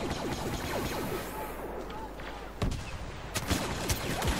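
Blaster gunfire in Star Wars Battlefront on the Bespin map, sharp shots and bursts popping over a dense, noisy battle background, with a cluster of louder hits toward the end.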